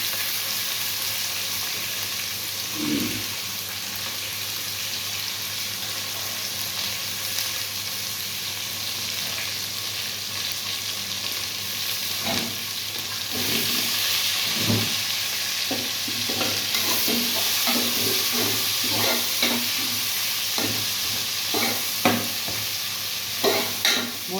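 Onions frying with turmeric in a pan give a steady, close sizzle, broken by repeated scraping stir strokes, with no talking.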